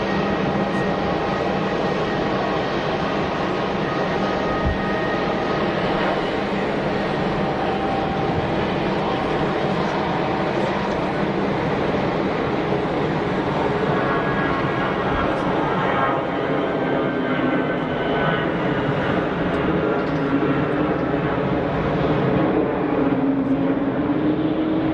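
An airplane departs from Geneva Airport, its engine roar a steady, fairly distant wash that rises slightly toward the end, with no voices over it.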